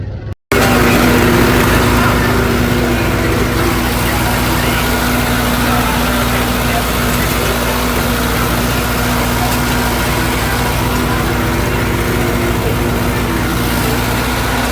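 A tractor engine runs continuously with a steady low drone and hum, close by and loud throughout, after a brief silent start.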